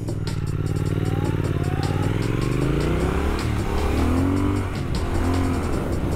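A Triumph Speed Twin 1200 motorcycle engine pulls loud and close while riding, its pitch climbing through the gears with rising and falling revs and steady engine roar throughout.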